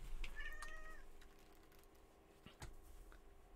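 A cat meows near the microphone, a single drawn-out call early on, followed by faint household shuffling and a quieter thump later, with no talking.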